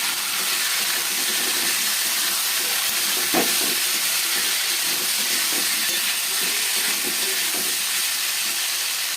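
Potatoes seasoned with turmeric and salt fry in a pan, giving a steady, even sizzling hiss that holds at one level throughout with no talk.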